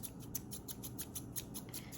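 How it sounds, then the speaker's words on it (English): Herb scissors snipping fresh, slightly damp cilantro over a plate of food, giving a quick steady run of about a dozen close, crisp cuts in even rhythm. "I'm going to cut some fresh cilantro up over my delicious food"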